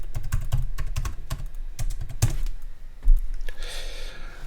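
A computer keyboard clatters with a rapid, uneven run of close key presses as a password goes in, one heavier keystroke near the end, then a brief soft rustle.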